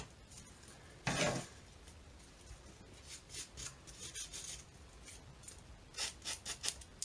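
Scissors snip through paper while a junk journal tag is trimmed: one firm cut, then a series of quick, faint rhythmic snips and rustles, close and quiet, with no talking.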